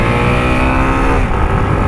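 A motorcycle engine revs hard in a police-chase video game, a loud, continuous buzzing roar held at high revs for the whole brief moment.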